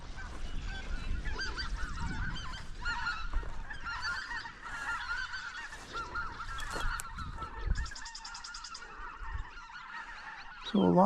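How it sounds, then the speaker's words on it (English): Greater white-fronted geese at a pond give a busy chorus of overlapping honks and calls, moderately distant and continuous, with no talking. "Greater white-fronted geese."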